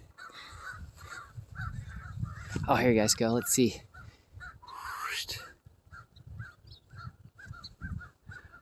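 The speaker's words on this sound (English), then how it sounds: "the crows are attacking one of the hawks that's flying over" Crows caw harshly in a loud cluster of repeated calls as they mob a hawk flying over a hayfield, then trail off into scattered fainter caws, while a person talks briefly nearby.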